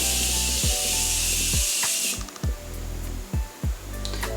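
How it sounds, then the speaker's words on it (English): A Morphe Continuous Setting Mist fine-mist spray is sprayed over a face, giving a sustained airy hiss for about two seconds before cutting off, followed by quieter handling thumps. "I'm just taking my Morphe Continuous Setting Mist, and I'm just spraying that all over my face."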